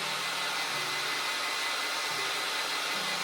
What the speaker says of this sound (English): after about 20 minutes with the blow dryer, they are mostly dry